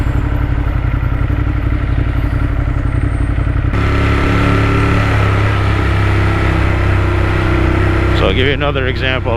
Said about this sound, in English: Like right now I'm in first gear, going 25. I wouldn't do this with her. It sounds too scary. It sounds too noisy.